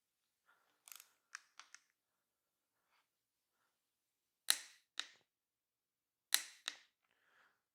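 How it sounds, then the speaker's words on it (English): A torque wrench tightens bolts on a 318 Poly engine for a 1964 Dodge Polara, giving sharp ratchet clicks in short bursts and then a few louder paired snaps of the wrench breaking over, in a quiet shop. "Already got the torque wrench set, so all I gotta do is crank it down."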